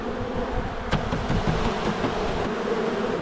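A dense swarm of honeybees from a hive inside a rental home hums continuously nearby, a low droning buzz with a few brief knocks and bumps.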